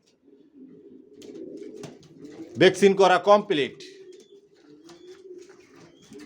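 Racing pigeon chicks of a Johnson long-distance line coo softly in a steady low murmur throughout, with a louder burst of calls in the middle, while someone talks nearby.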